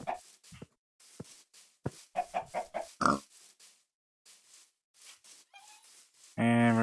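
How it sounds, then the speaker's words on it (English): Short grunting oinks from Minecraft pigs come in quick irregular bursts, fairly close, ending with a louder tonal squeal. "And pigs."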